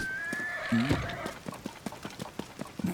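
In The Legend of Zelda: Tears of the Kingdom, a horse gives a high whinny and snorts while its hooves clip-clop in a steady rhythm over game music, with a brief voice near the end.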